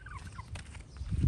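Chickens in a farmyard near a tractor give soft, scattered clucks and gobble-like calls, faint and sparse, before a low rumble swells at the end.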